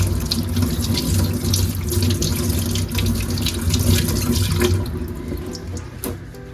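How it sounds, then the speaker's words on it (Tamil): A kitchen tap runs hard while crabs are rinsed beneath it, giving a loud, continuous splashing gush of water that eases and thins out toward the end. "இப்போ பைப்பை திறந்து விட்டு கழுவலாம் தண்ணி வச்சு கூட கழுவலாம்"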